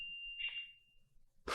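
An electronic alarm sounds a single sustained high-pitched tone that swells briefly and fades, followed by a sudden loud burst of noise.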